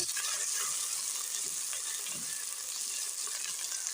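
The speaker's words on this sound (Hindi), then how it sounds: "अब इस टमाटर को अच्छे से पकाएंगे।" Tomato cooks in a pan with potatoes, giving a steady, even sizzle that continues throughout at moderate loudness, with no voices.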